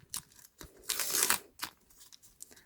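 A paper surprise packet is torn open with several crisp ripping bursts and crinkling, including one longer tear, close and clear, with no talking.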